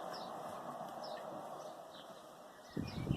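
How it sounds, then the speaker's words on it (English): A blackbird sings outdoors, its faint, distant chirps carrying over a steady indoor hum, with a brief louder thump of handling near the end. "Don't know if you can hear the blackbird out there singing his heart out"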